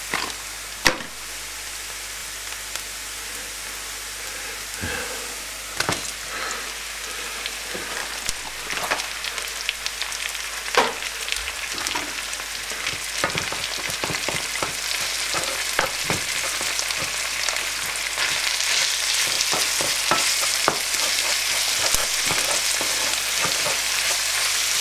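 Minced meat sizzles steadily in a pan with softened garlic and onions, a continuous crackling fry broken by occasional sharp clicks and stirring scrapes, close and fairly loud with no voices.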